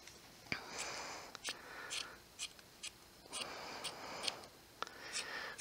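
Scissors snipping the yarn ends of a handmade pom-pom to trim them even, a series of soft, crisp cuts in irregular bursts at close range with no talking.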